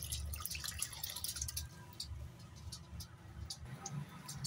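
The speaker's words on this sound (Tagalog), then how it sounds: "Sakayin natin yung unang gata." Freshly grated coconut mixed with hot water is squeezed by hand to draw off the first coconut milk, giving close, faint wet dripping and trickling sounds with soft squishing underneath, steady throughout with no talking.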